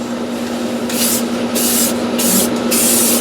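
Several bursts of aerosol spray hiss, each lasting under a second with short pauses between, close and fairly loud over a steady background hum.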